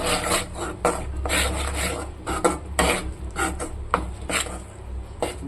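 Wheat flour being stirred into hot ghee in a pan for wheat-flour halwa, giving steady scraping and rubbing strokes of a spoon against the metal with light clinks, close and fairly quiet, with no voices.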